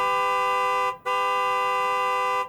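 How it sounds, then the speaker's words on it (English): A car horn sounds in the video game Life is Strange 2: two loud, steady honks close by, the first about a second long and the second longer, with no talk. "I don't think she had to honk."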